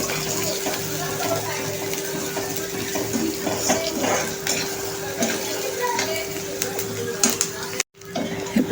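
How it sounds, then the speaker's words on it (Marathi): Finely chopped onion sautéed in a pan for garlicky fenugreek, a continuous close sizzle with scattered spatula scrapes and stirring clatter, ending in a brief cut of silence. "आपण कांदा टाकून छानपैकी आता मस्तपैकी परतून घ्यायचा आहे"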